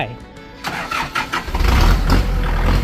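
A Kubota L4708 tractor engine cranks briefly and catches, settling into a loud, steady diesel run after a second or so of starter noise.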